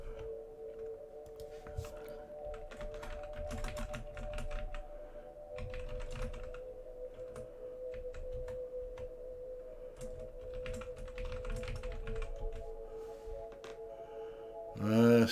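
Computer mouse and keys click in quick, irregular bursts up close, faint and soft against a steady low electronic hum from the computer, with no one speaking.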